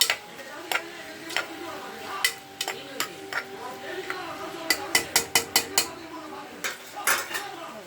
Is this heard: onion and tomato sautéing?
yes